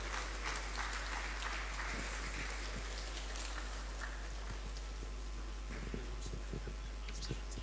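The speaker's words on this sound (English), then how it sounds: "let's give a standing ovation along with a round of applause" A large church general assembly audience rises in a standing ovation, steady and sustained applause filling the hall from start to finish with no pause.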